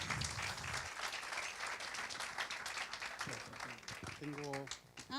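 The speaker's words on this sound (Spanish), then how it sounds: "Un aplauso." An audience applauds at a climate change talk, sustained clapping close and full throughout, with a voice starting to speak over it near the end.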